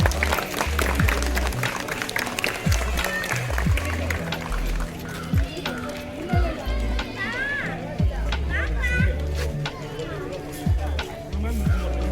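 At a neighbourhood Kannada Rajyotsava celebration, an outdoor crowd claps to welcome arriving guests, scattered applause mixed with children's voices, running feet and general chatter, with drum-like thuds underneath throughout.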